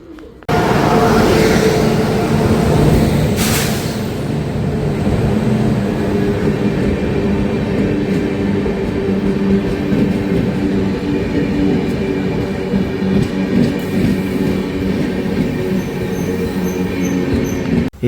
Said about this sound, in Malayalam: ഇത് മൈസൂർ വരെ പോകുന്ന ട്രെയിനാണ്.